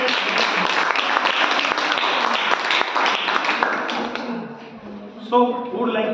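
Classroom audience applause ahead of a student debate on a multi-party system, brisk dense clapping for about four seconds that thins out and gives way to voices.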